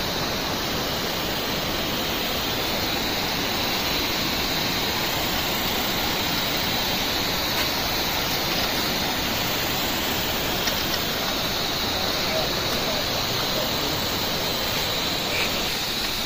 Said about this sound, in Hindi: छोटा सा झरना बह रहा है।